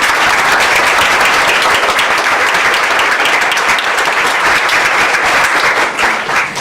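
Loud, sustained applause from an audience welcoming guests to an evening conversation event, dense steady clapping filling the whole stretch and easing slightly at the end.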